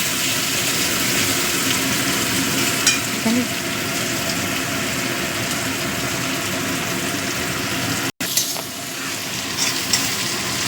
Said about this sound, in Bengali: এই পেঁয়াজটাকে আমি একটু লাল করে ভেজে নেব